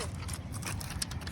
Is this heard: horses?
yes